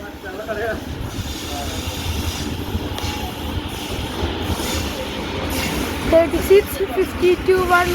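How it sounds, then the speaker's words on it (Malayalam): A train rumbles and clatters along the rails with hissing and squealing wheels near the end, as it slows into a station. "അടുത്ത ട്രെയിൻ നമ്മുടെ"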